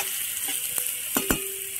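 Chopped ginger and garlic dropped into hot oil with asafoetida for tempering: a steady, close sizzle with a few brief clinks and stirring scrapes.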